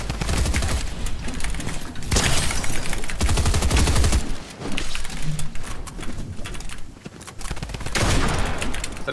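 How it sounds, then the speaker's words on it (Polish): Drum gun firing in Fortnite, bursts of rapid automatic shots in several long volleys separated by short pauses, loud and close, with brief talk in between. "Jakoś wolno ten dramgun strzela"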